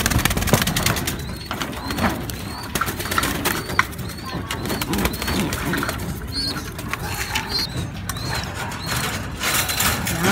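A racing pigeon kept as a breeder, with soft cooing and fluttering amid clicking cage and mechanism noises, close and busy, while someone talks over it.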